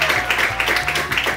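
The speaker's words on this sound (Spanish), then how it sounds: "vamos a darle un fuerte aplauso, por favor, si son tan amables" A television studio audience applauds on a Spanish variety show, producing a loud, steady wash of clapping that fills the whole moment, with a faint sustained tone running underneath.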